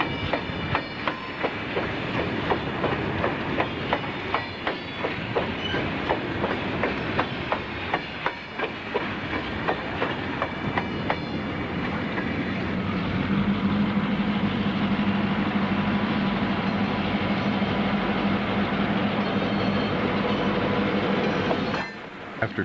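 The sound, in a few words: Southern Pacific train running along the coast line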